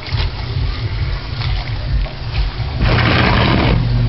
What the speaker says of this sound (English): You just scrub the clothes.